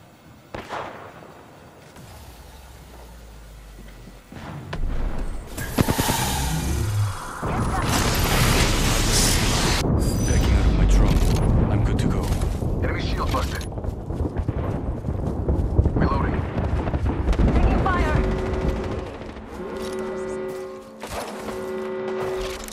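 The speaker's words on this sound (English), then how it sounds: "Shooting!" Gunfire in Apex Legends, a long dense stretch of loud rapid shots and booming impacts, close and continuous for most of the clip, tapering off near the end.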